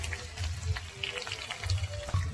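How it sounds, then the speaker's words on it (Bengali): Hot water poured into a browned chicken curry in a pan, a close, bubbling splash and gurgle of liquid meeting hot food, steady for a couple of seconds. "এখন এর মধ্যে একটু জল দিয়ে নিতে হবে"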